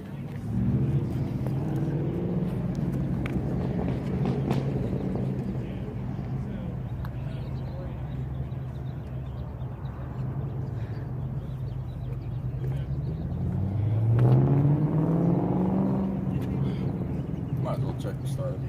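A Lamborghini Aventador engine starts and rumbles steadily throughout, with a rising rev near the end, while people talk over it.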